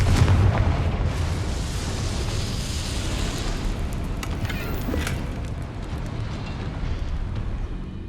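Bombardo and Confringo spells blasting in the game Hogwarts Legacy, a loud, dense rumble of explosions with a heavy low-end burst at the start that rolls on steadily, with no talk.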